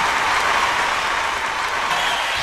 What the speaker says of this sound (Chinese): 来，我们掌声送给中国女排队